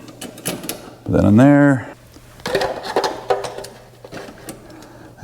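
A ratchet or power tool briefly whirs while tightening a mounting bolt on a Holley 750 cfm carburetor, a short rising mechanical buzz amid clinks of tools, with someone talking around it.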